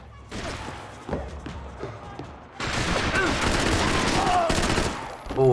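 Rapid bursts of gunfire in the video game Max Payne 3, in a São Paulo favela level, with sustained rattling volleys growing louder partway through and a voice briefly heard beneath.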